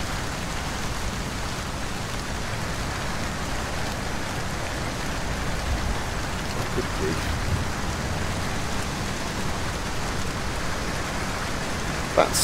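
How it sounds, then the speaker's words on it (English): Steady rain from a modded Skyrim game with a realistic lighting mod, a dense, even hiss of falling drops filling the whole stretch with faint rumbling underneath and a brief sharper sound at the very end. "it's got some new rain enhancements"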